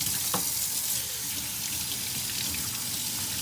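Salt pork rinsed under a running tap for corn soup, a steady close hiss of flowing water splashing in a sink, continuous and fairly faint with no talk.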